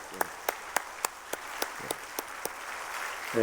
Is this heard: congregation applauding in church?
yes